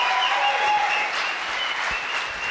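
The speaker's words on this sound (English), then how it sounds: "Nick, come on stage and more applause." A conference audience applauds loudly and steadily at a Startup Weekend event in Lithuania, a dense, continuous wash of clapping from many hands with a few louder individual claps standing out.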